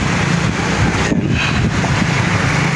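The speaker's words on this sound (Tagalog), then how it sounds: "Malakas ang hangin." Strong wind buffets the microphone at the Talaberas seawall in Toledo City, Cebu, a steady broadband roar with surf in the background, continuous and loud for the whole stretch.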